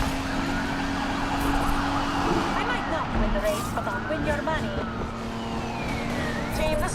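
A police patrol car siren wails in the video game Need for Speed Unbound, rising and falling over steady engine roar and street racing noise, with a voice heard briefly.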